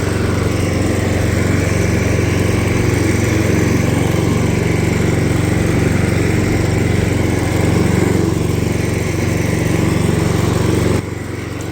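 A lawn scarifier runs steadily across a lawn, its engine droning loud and close with a constant mechanical roar and blade rattle, easing slightly near the end.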